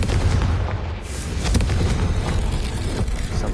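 Booming Confringo spell blast in the video game Hogwarts Legacy, a heavy, rumbling explosion with crackling bursts that swells again partway through and keeps roaring to the end, with no voices.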